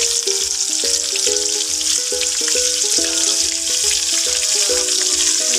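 Sliced onion rings sizzle and fry in a pan with meat, a steady loud crackling hiss running throughout with clinks of a utensil stirring against the pan.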